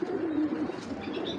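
A female Giribaj pigeon coos close by in one rolling phrase. Faint chirps come in toward the end.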